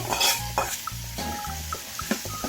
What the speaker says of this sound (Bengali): এখন আমরা এই যে চিংড়ি মাছগুলো দিয়ে আবার একটু কষাই নেবো ভালো করে।